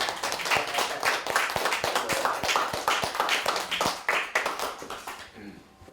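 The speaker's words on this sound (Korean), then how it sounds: "여러분 박수 한번 멋있게 우리 한번." An audience at a church lay-group seminar claps together in a steady burst of applause, dense and close at first, then thinning and fading out near the end, with faint voices underneath.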